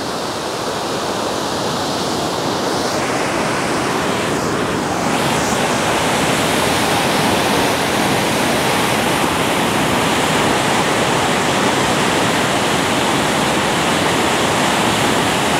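A flooded stream rushes loudly under a bridge, a dense continuous roar of churning water that stays close and steady throughout.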